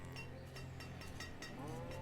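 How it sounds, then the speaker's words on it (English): Cattle in the village-building game Banished low and moo in a steady layered wash, with a faint clinking cowbell over a continuous farm ambience and no talking. "We have got some cows."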